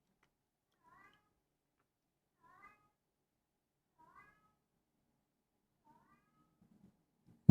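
A house cat meows at a bird outside, four short, soft meows spaced about 1.5 seconds apart with quiet pauses between, ending in a sudden loud thump.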